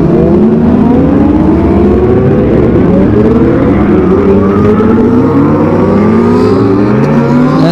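Kawasaki ZX25R motorcycles on a group ride in Lampung rev hard, a loud, continuous engine roar with pitch climbing and sweeping as throttles open, several engines layered close by.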